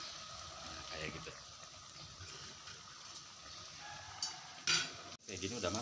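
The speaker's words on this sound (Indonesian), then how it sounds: "setelah pisangnya minyaknya panas, baru deh kita tinggal masukin pisangnya" Papua tanduk bananas fry in hot oil with a soft, continuous sizzle and occasional stirring clinks, close and fairly quiet, while a person talks over it.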